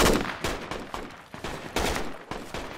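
Rapid bursts of gunfire in a military video game set in the Sahel, loud and close, with repeated sharp shots in quick clusters and no talk over them.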